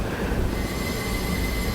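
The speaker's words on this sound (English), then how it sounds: "The train was headed down the tracks instead of going the other opposite way." Train wheels squeal steadily on rails in a Roblox game, a loud, continuous metallic screech with a rumbling rolling undertone and no talking.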